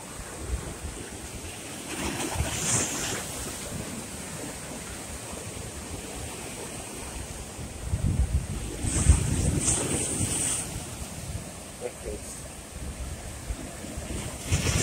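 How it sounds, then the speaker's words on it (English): Sea waves wash onto Hastings Beach on the south coast of Barbados, a steady surf roar with wind buffeting the microphone and louder swells rising around the middle of the stretch. "And this is all the sea here."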